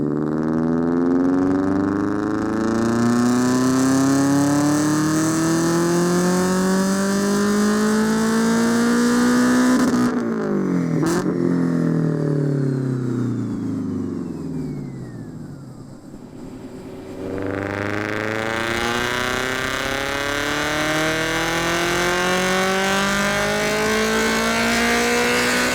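Supercharged Subaru BRZ engine revving through the gears on runs, loud rising wails repeating, a sharp drop and lull before the engine climbs again in further sweeping pulls.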